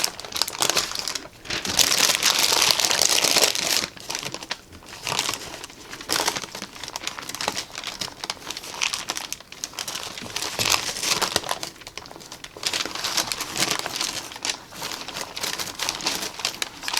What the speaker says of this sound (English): we're using the parchment paper here to help us roll this up.